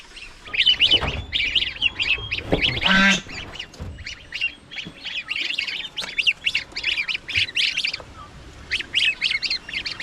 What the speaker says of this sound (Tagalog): Parang 5 na yung sisiw na ating gansa mga kaprobinsya.